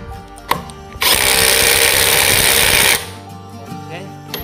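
A Ridgid R87207 18V cordless impact wrench running in reverse gives one loud, steady, buzzing hammering burst of about two seconds, with quieter handling noises before and after it.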